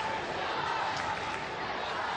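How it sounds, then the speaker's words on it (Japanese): Japanese football supporters cheering in a stadium crowd at an international match against Brazil in Liverpool, a steady distant roar of many voices with no clear breaks, held at an even level. "日本の歓声が湧き上がりました"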